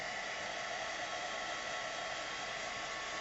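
A hair dryer or heat tool runs steadily while drying ink on a stamped birthday card, giving a continuous, even whoosh that is fairly quiet and close, with no voices.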